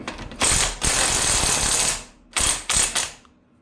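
A ratchet wrench works head bolts loose on a go kart engine, giving a long loud stretch of clicking ratchet strokes, a pause, then several shorter ratcheting bursts nearby.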